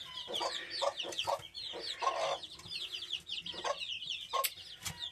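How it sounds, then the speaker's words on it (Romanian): Young roosters, one of them black, cluck and chatter softly in a farmyard, a series of short bursts with chirpy calls overlapping, fairly faint and close, with no talking. "Am un doi cocoșei, așa, ăsta negru și ăla frumos."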